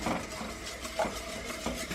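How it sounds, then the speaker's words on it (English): Milk and double cream being whisked continuously in a pan, a soft steady swishing with faint light clinks of the whisk against the metal, fairly quiet and close with no talking. "Just whisking, whisking, whisking continuously."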